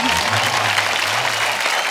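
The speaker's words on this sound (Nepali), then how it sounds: "जोरदार ताली बजाउँ" An audience at a comedy club show claps in a dense, steady burst of applause that holds at full loudness for about two seconds.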